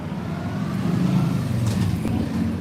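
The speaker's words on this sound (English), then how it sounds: "There's a motorcycle and a white car driving by me at the same time." A motorcycle and a white car pass by on a street at the same time, a steady low rumble of engines and road noise that stays fairly loud and even throughout.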